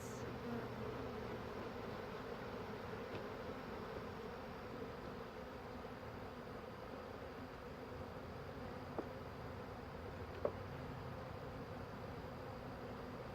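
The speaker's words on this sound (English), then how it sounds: "There's a yellow jacket hanging out, cleaning up." A yellow jacket wasp hovers around a permaculture garden during a fall inspection, giving a faint, steady insect buzz that continues for the whole stretch with a couple of tiny clicks.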